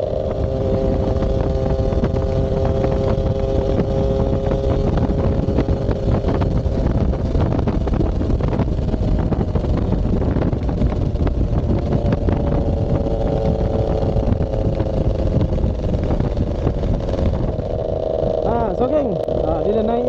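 A motorcycle engine drones continuously while riding, buffeted by heavy wind noise across the microphone, with the pitch steady and then rising slightly near the end; a rider talks intermittently over the engine.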